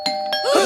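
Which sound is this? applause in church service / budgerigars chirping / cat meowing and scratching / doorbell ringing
doorbell ringing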